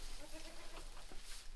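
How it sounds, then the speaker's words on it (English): Several goats bleat on a farm in a short run of wavering calls over a steady background hiss. "These are the goats who eat it."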